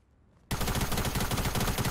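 Rapid automatic gunfire in Fortnite bursts in suddenly after a short quiet moment, then continues as a dense, loud, rattling stream of shots to the end.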